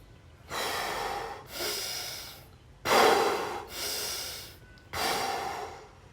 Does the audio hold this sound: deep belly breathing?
yes